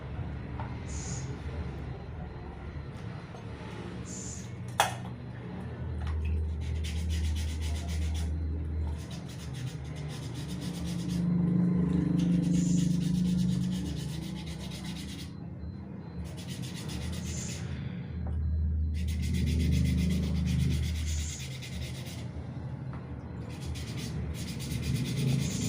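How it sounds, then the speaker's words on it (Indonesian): An egg is sanded clean, giving soft repeated scraping and rubbing strokes in uneven bursts, close and fairly quiet, with faint handling noises between. "bersihkan telur dengan air dengan cara dihamplasnya"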